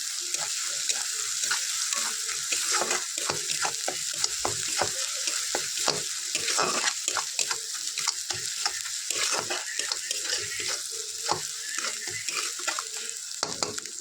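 Spices and slit green chillies fry in a pan for doi katla, a yogurt-based carp curry, producing a steady sizzle broken by rapid, repeated stirring scrapes close by, with no voices.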